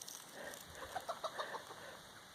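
Soft, faint clucking from a few chickens near a hayfield, a short run of quick low calls close by with no talking.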